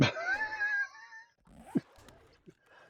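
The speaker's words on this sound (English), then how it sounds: "There's only two undead dogs left, I hope." An undead zombie dog in the game 7 Days to Die lets out a drawn-out howling whine, then short growls and snarls, fairly close and moderately loud.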